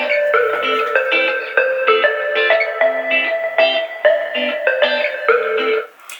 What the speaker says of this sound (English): Let us just play some music here one time.